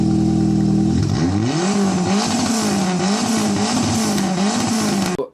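A converted 4WD race car engine roars loud and close, its pitch revving up and down in repeated surges before cutting off abruptly at the end.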